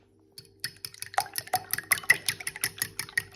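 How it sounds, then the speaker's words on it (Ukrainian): A fork rapidly whisking eggs in a bowl, quick rhythmic clicking and wet tapping against the sides, close and steady. "Збиваємо звичайною виделкою до однорідної маси."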